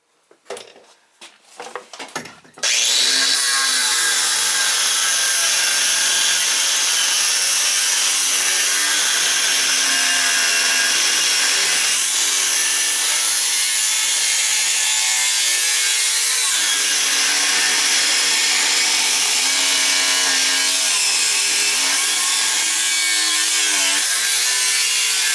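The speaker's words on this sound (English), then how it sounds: "Cut the rest with a saw. Sawzall." A Sawzall reciprocating saw cuts through cast iron pipe in a steady, loud, grinding metallic rasp that runs continuously for over twenty seconds, preceded by a few short knocks and rattles as it starts.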